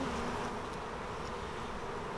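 Honey bees buzzing in a dense, continuous drone as they are shaken off a hive frame during swarm control, close and steady throughout with no voices.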